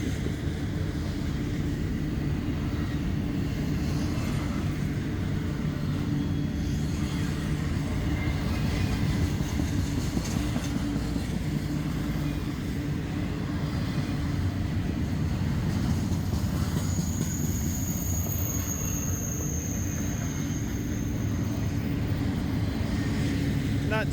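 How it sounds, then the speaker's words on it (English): A Z train, a fast freight hauling refrigerated perishables, rumbles past at Oro Grande in a steady, continuous roar heard from a distance, with a faint high whine rising late in the pass. "This is probably a Z train."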